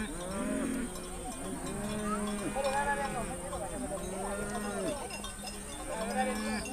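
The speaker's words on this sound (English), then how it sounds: "The killing fields of the night are transformed into places where cattle may safely graze." Maasai cattle grazing at dawn low repeatedly in long, bending moos, several animals overlapping in a steady rhythm over a continuous background with cowbell clanks.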